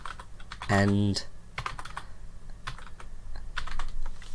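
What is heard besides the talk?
typing on a computer keyboard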